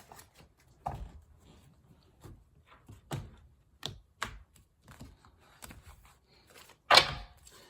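Tarot cards shuffled by hand in a series of soft, irregular riffles and taps spread over several seconds, ending with one louder snap.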